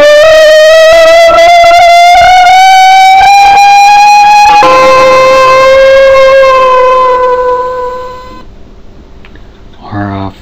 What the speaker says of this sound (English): I think Ghost Whale is a good one